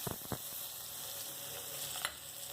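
Garlic cloves fry with a dried red chili in a pan, giving a soft, steady sizzle with a few brief clicks and stirs near the start and end.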